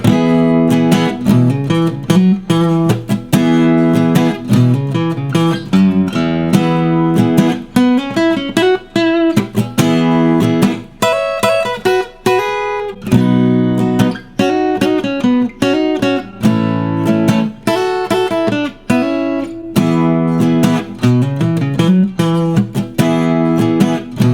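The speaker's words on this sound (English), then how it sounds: "combine chords with speedy little lead fills" Electric guitar mixing chords with quick lead fills from the major pentatonic scale and double stops, a continuous, loud and busy passage of strummed chords and bright melodic licks with no talking.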